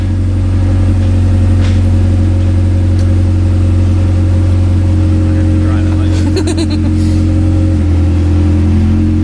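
A Honda Civic EG with a swapped B16B Type R engine and an open header runs with a loud, steady mechanical drone. A few brief clicks come partway through, and the engine stays present the whole time.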